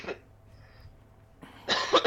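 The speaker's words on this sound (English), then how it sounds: "I still got a little bit of a cough over here" A short cough is followed by a pause and then a louder, raspy double cough, close up, with no talking.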